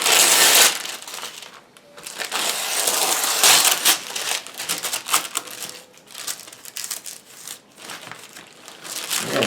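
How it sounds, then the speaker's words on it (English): Wax paper being peeled off tape, a near, continuous crinkling and crackling with sharp bursts of rustle throughout, no speech. "there's a piece of wax paper here. Let's get that off. It stuck to the tape."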